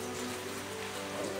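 Windy rain falls steadily outdoors, a dense even hiss of drops with no pause through the short stretch.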